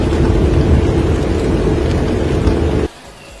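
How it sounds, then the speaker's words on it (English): Heavy tropical rain shower in Samoa, pounding as a loud, dense broadband roar that stops abruptly near the end, leaving quiet background. "Usually rain on your face is quite relaxing, but at 100 k's an hour, it is like having people throw stones at your face."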